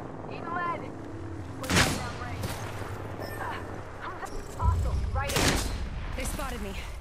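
Gunfire in Apex Legends, two loud sharp shot bursts separated by a few seconds, each with echoing tails, over a low background hum and faint game sounds.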